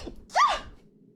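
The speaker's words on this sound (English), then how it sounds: "I need to sneeze." A single short sneeze bursts out close to the microphone, sharp and breathy, followed by quiet.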